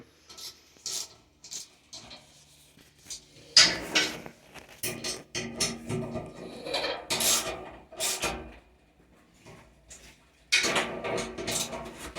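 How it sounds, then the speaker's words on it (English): Bolts on a flock chamber gearbox are tightened by hand, giving close, irregular bursts of metallic ratcheting and rasping clicks separated by short pauses, with no talk. "We're just going to come back and tighten everything up here real quick."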